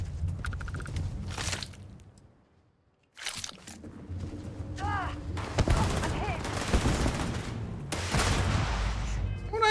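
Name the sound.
gunfire shooting Unit 99 in video game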